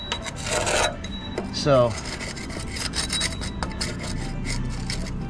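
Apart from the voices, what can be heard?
rubbing barnacles and calcium off an inflatable boat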